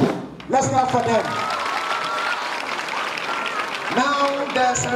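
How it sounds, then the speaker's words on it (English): Audience clapping at a high school army cadet corps parade, a broad patter filling the middle of the clip, with a voice speaking over it at the start and end. "Let's clap for them."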